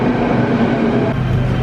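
A metro train pulls into a station in China with a loud, steady rumble and rushing roar that continues without a break for its full length.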